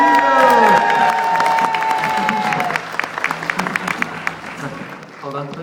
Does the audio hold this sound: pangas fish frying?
no